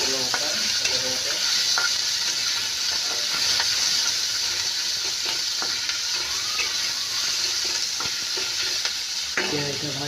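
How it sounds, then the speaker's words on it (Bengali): Onion, soybean chunks and green chilli sizzle steadily in a light layer of oil, a loud continuous frying hiss with occasional stirring scrapes and clinks, no voices. "পেঁয়াজটা ভাজতে হবে ভালো করে"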